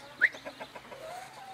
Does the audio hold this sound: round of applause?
no